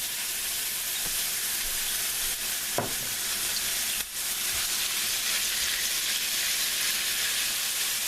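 Steady, loud sizzling and crackling of chicken frying in a hot pan, continuous hiss throughout with a couple of brief clanks.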